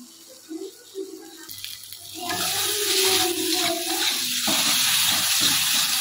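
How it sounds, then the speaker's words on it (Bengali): Water poured into spices cooking in a pan for a Bengali khichuri meal, a soft pouring splash that swells into a steady loud sizzle and bubbling hiss, with a few faint clicks beforehand. "তো এর মধ্যে একটু জল অ্যাড করবো"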